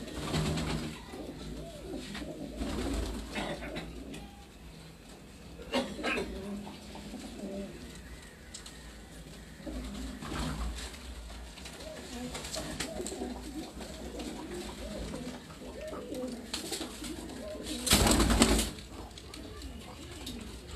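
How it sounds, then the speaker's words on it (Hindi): Sindhi pigeons on a rooftop in Larkana, Sindh, coo softly in repeated low murmurs, with people talking nearby and occasional rustling and bursts of noise. "ये हमारे सिंध के कबूतर हैं जी"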